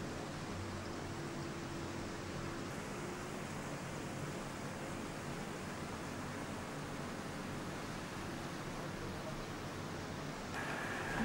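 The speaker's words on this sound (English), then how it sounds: "Sound of the sea." Sea waves at a beach in Penang, Malaysia, heard at dusk as a soft, continuous distant wash of surf with a faint background hum, fairly quiet and without talk.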